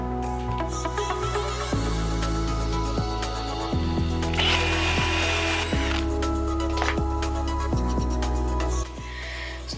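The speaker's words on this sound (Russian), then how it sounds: "Сверлом на 10 сделаю дырочку, чтобы пилочка у меня вошла в деревяшку." An electric drill boring a 10 mm hole into a piece of wood works close by, its motor whining steadily for the whole stretch with repeated pulses and shifts in pitch, and a brief harsher burst partway through.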